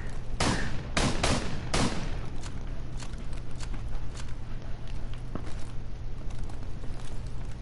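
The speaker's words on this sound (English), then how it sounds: "Oh, you want to use a shotgun," Shotgun blasts in an old-school Michael Myers video game, a few sharp close shots early, then scattered fainter bangs and thuds over a steady low hum.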